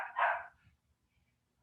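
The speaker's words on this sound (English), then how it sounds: "apologies if you can hear the dog barking in the background" A single sharp dog bark comes from the background, moderately loud and brief, then quiet follows.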